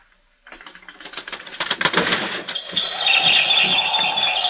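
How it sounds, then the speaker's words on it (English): In a 1953 radio drama of The Birds, a bird tries to get in at a window, heard as a rapid tapping and rattling that builds and turns into a loud, fluttering chirping flurry. "There's some bird out there trying to get in."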